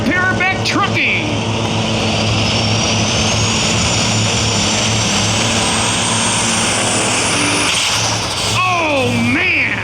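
A John Deere pulling tractor roars loud and sustained through a pull at Dragway 42, its engine note rising steadily, while an announcer speaks over the din.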